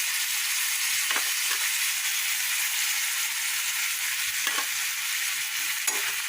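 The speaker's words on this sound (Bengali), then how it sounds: "আমি বাটি ধোয়া জলটা দিয়ে দিচ্ছি এতে" A pan of drumstick (sajne data) stalks sizzles steadily on the stove, a constant bright hiss broken by a few soft knocks and scrapes as a little water goes in.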